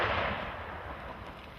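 A Tannerite charge set off to blow up a beaver dam, one loud boom at the start that decays into a long rumbling tail of debris and echo, with no voices.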